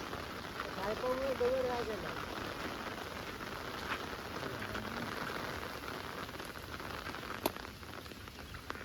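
Monsoon rain pours steadily in the Konkan countryside, a dense even hiss of drops striking surfaces, with a person speaking briefly over it.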